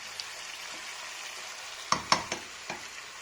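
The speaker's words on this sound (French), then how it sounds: "je continue de faire revenir le tout avant d'ajouter les carottes" Chicken drumsticks and vegetables sauté in a pan for a tajine, a soft steady sizzle broken by a few sharp spoon scrapes and clicks near the end.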